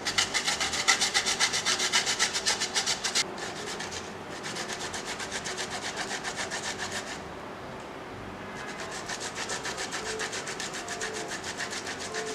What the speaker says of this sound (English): So we'll just grate this. Grate it into our mixing bowl.